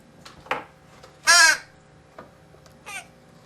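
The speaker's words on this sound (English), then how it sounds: "I hope I made the point that there is no escaping the crow." A crow gives a loud, close caw in the middle, surrounded by fainter, shorter calls and soft ambient noise outdoors, with no one speaking.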